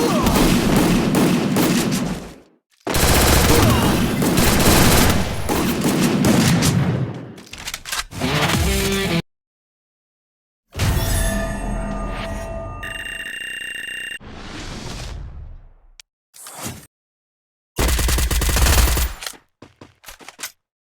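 Rapid bursts of gunfire from the Free Fire video game crackle loudly in separate volleys, broken by short silences and electronic game effects.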